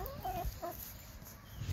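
Hens being fed expired bread give a few soft, faint clucks over a quiet farmyard background, with no one talking.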